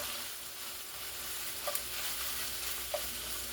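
Browned sausage frying in a pan, a steady hiss of sizzling grease close by with a couple of faint clicks of the pan.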